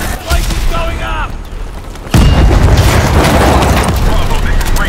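A reactor explosion in the video game Call of Duty: Advanced Warfare erupts as a sudden loud boom midway, then rolls into a sustained roaring rumble over gunfire, with voices speaking through it.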